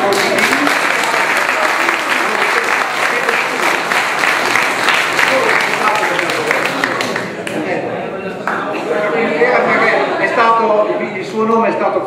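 At a municipal election meeting in Bettola, an audience claps loudly and steadily for several seconds, then the applause fades as people start talking.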